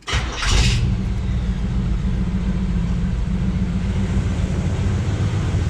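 A 1978 Chevrolet Camaro Z28 with a carbureted engine cranks briefly and fires up, then settles into a loud, steady, rumbling idle close by.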